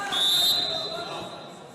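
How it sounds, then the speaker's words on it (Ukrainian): A referee's whistle sounds at a 55 kg bronze-medal Greco-Roman wrestling bout at the Ukrainian championship: one sharp, sustained high blast that fades out over crowd and arena noise. "свисток зупиняє е, несамовиту атаку Гавричкіна"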